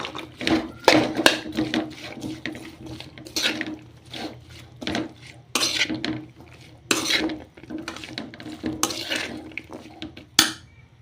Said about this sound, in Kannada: ಇದಕ್ಕೀಗ ನಾವು ಆಲೂಗಡ್ಡೆ ಮತ್ತು ಬೀನ್ಸ್ ಹಾಕೋಣ. ಚೆನ್ನಾಗಿ ಮಿಕ್ಸ್ ಮಾಡ್ಕೊಳ್ಳೋಣ.